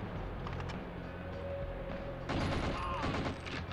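Gunfire from the PS1 game 007: The World is Not Enough, with enemies carrying shotguns; dense, crackling bursts of shots run over a steady game background, loudest in the last second and a half.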